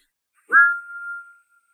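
A single short steam engine whistle blast, bright and clear, rising quickly then holding a steady tone for under a second in otherwise silence.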